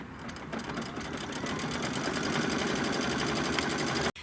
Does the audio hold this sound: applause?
no